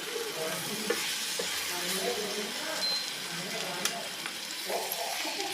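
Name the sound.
radish greens added to sizzling tempering, stirred in pan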